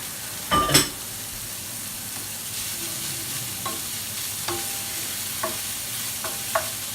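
Mushrooms hit a hot pan for a tofu scramble with a brief loud clatter, then a steady close sizzle of frying, broken by a few light scrapes and taps of stirring.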